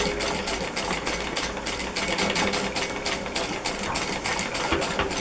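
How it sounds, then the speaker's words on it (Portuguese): A sewing machine stitching slowly over pins while sewing a Seminole-pattern dish towel, its needle tapping in a steady, fairly loud rapid rhythm with motor whir underneath, running continuously and close without talk. "você vai costurar devagar, para quando for chegando perto da alfinete, você consiga fazer com que a agulha pule a alfinete"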